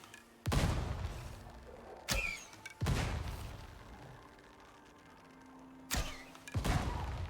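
Exploding arrows striking at long range in the survival game Icarus, heard as several sharp, booming blasts spaced apart, each with a rumbling decay, loud against a quiet background.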